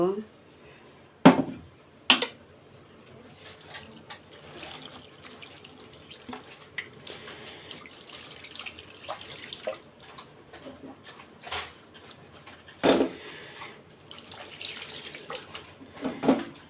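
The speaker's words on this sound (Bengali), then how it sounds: "আমি এখন পরিমাণ মতো পানি দিয়ে দিব" Water poured into a cooking pan while preparing a spicy katla fish-head chorchori, a soft running splash with faint clinks of the pan, fairly quiet and close.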